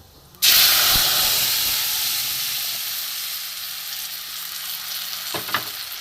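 Tamarind pulp hits hot oil already holding panch phoron and dry red chilli, bursting into a sudden loud sizzle that slowly settles into a steady hiss, with a couple of faint utensil knocks.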